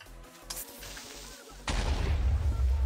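A Minecraft creeper explodes in the SkyFactory modpack: a sudden heavy boom cuts in partway through and rolls on as a loud, rumbling blast after a quieter stretch of game noise.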